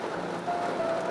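Rain falls at night in a steady, even hiss of drops on surfaces, moderately loud and close, with a faint thin tone running through the second half.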